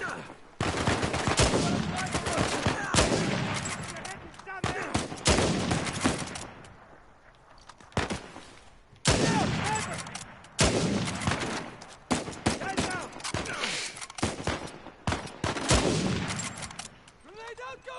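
Loud gunfire in Uncharted 4, with sniping and dense volleys of shots, comes in long bursts broken by brief lulls, and voices talk now and then.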